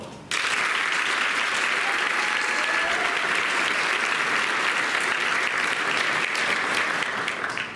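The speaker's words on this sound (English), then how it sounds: "Will you please join me in giving them a quick round of applause?" A large audience at a school academic awards night bursts into sustained applause, a dense, even roar of many hands clapping that starts abruptly and holds steady throughout.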